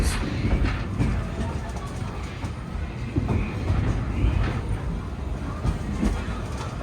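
The Disneyland Railroad train rolls along its rails through a theme-park jungle stretch, a continuous low rumble with rhythmic wheel clatter and rattling carriages, close and fairly loud throughout.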